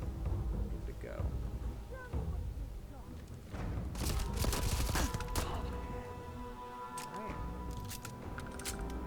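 Rifle fire in the video game Starfield, a burst of sharp, loud shots cracking in quick succession over a busy, rumbling game soundscape, with more scattered bangs afterward and a voice talking underneath.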